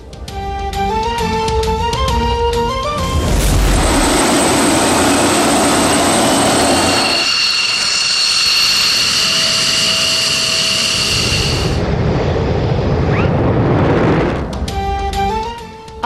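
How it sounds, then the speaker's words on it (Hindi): An F-16 fighter jet roars past in a loud, sustained engine blast with a high whine, rising and fading over several seconds between stretches of background music. "F-16 तैयारे पर फ्लाइंग।"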